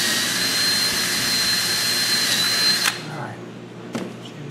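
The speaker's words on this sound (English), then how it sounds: "let's get some of these holes drilled" A power drill whines steadily at close range for about three seconds, then stops, followed by a brief faint click.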